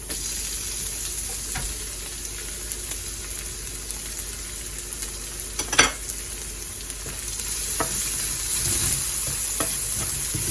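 Garlic sizzling as it fries in oil for a fish sarciado dish, a steady close hiss with a few stirring clinks and one sharper clatter midway, nobody talking.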